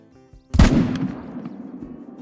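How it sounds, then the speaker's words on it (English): A single loud rifle shot fired at a mule deer buck in the hunting game Call of the Wild: one sharp, close crack that rolls into a long, fading echo after a quiet lead-in. "we finally were able to squeeze a shot in there"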